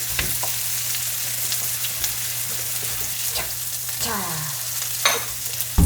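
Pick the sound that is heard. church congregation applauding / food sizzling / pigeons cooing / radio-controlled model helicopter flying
food sizzling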